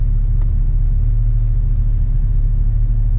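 A car engine idles in traffic with a steady low rumble throughout as it starts to run hot, continuous and close, with no voices.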